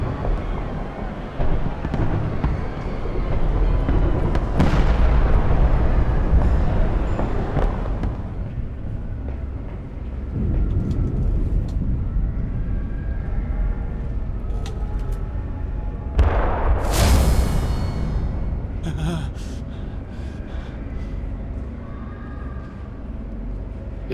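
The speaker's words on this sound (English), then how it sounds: "There's explosions, but like mixture of gunshots too." Booming explosions mixed with sharp bursts of gunfire in the video game Amnesia: A Machine for Pigs, dense and continuous, with a loud blast partway through over a rumbling low end.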